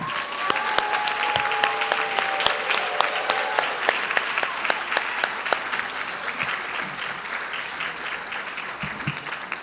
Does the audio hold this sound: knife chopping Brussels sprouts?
no